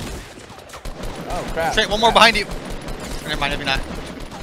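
Gunfire in Fortnite Battle Royale: bursts of shots ring out during a firefight while players talk over them.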